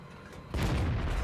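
A single deep tank cannon shot in a tank video game, a sudden heavy boom that rolls on with a low rumble after a quiet lead-in.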